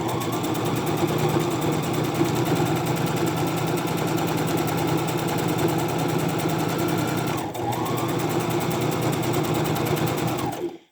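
A sewing machine runs steadily, stitching a round scrunchie-style fabric bin, with a continuous close mechanical whir and rapid needle rhythm, a brief dip near the end before it stops.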